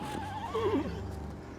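A horse gives a single wavering neigh, close and clear, over a steady low background hum.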